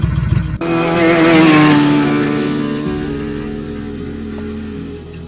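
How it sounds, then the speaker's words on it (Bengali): A Ducati motorcycle's throttle is twisted, its engine revving hard and surging away in a loud, sustained roar that slowly fades as it speeds off down a quiet dark road, staged as a drama sound effect. "আর তারপর থ্রটল ঘুরতেই প্লাবন আর তার ডুকাটি চোখের নিমিষে ছুটে বেরিয়ে চলে গেল সোনারপুরের শান্ত অন্ধকার রাস্তার দিকে।"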